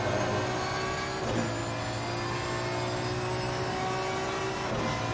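Race car engine at Zolder in Assetto Corsa Competizione, powering out of a corner in third gear: a loud, sustained engine whine with steady harmonics and a brief shift near the start, heard alone.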